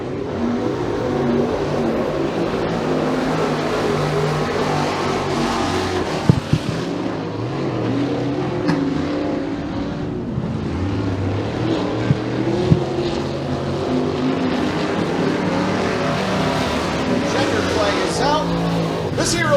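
Race cars roaring around the 3/8-mile Genesee Speedway track in a heat race, steady engine drone rising and falling as cars pass, under continuous commentary.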